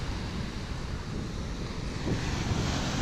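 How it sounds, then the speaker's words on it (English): Sea waves crashing against a rocky harbour wall at Santa Cruz de la Palma in the Canary Islands, a continuous distant wash and roar mixed with wind buffeting the microphone, swelling slightly near the end. "there's the waves crashing against the wall there where we just were up by that signal"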